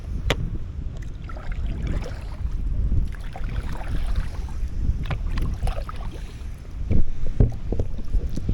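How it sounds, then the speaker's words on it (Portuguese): Rough, heavy sea heard from nearby as a continuous broadband roar with wind buffeting and occasional sharper splashes and surges, steady throughout with no voices. "E aqui onde a gente tá já dá pra ouvir o barulho do mar."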